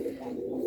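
Low, soft cooing of a small almond pigeon, a steady murmuring hum held close and fairly loud for under a second, alone without talk.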